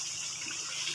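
A steady stream of water poured into a cooking pot of softened tinda and chicken curry, an even gushing rush close by without a break.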